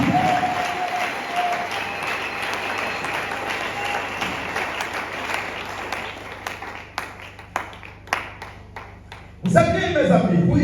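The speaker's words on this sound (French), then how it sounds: "On acclame pour ne pas dormir." A congregation applauding during a church sermon, a thin scattered clapping that swells and dies away, with a preacher speaking over it before a louder voice cuts in.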